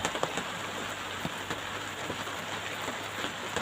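Steady rain pattering on a surface, a dense even hiss with occasional sharper drops and no voices.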